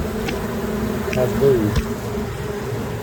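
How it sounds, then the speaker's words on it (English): Honey bees swarm around an opened hive during a brood frame inspection, a close, continuous buzzing with individual bees droning past, while someone talks over it. "There's so many bees."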